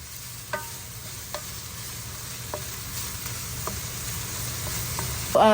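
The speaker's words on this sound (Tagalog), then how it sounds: "lulutuin ko itong mixed vegetables" Mixed vegetables sizzle steadily in a hot pan during a stir-fry in an RV kitchen, a constant close hiss broken by occasional light scrapes of the spatula.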